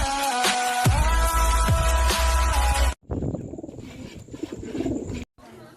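Pigeons coo close by in loud, throaty, repeated calls over steady background noise, then grow softer and more scattered.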